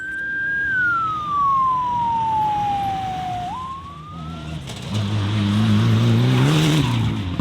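The course car, a rally car running ahead of the competitors, passes on a rally stage. Its engine note falls in a steady Doppler sweep as it approaches and goes by, then turns into a louder, rough rumble close at hand.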